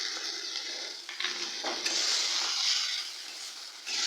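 Ground spice paste hits a pan of frying onion with a steady, close sizzle that swells briefly as the paste goes in, alongside light stirring.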